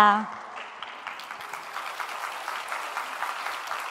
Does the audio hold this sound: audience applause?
yes